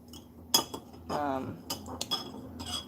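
A metal butter knife clinks and scrapes against a glass honey jar, with a few sharp taps and a short stirring scrape, close and fairly quiet.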